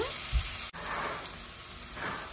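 Green chillies sizzle softly in a pan as they are stirred into sago upma, a quiet, even crackling hiss with a brief scrape of stirring, and no one speaking.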